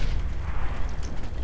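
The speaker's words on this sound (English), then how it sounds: "Oh no, grenade." A grenade explodes in a custom zombie video game map, a loud, continuous low rumbling boom that fills the whole moment.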